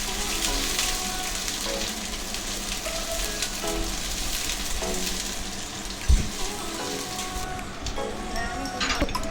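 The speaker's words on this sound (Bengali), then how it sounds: "পেঁয়াজটা একটু ভাজা ভাজা করে নিই।" Chopped onions fry in mustard oil with a steady, rain-like sizzle, close and continuous, broken by one sharp knock of a utensil and faint background voices.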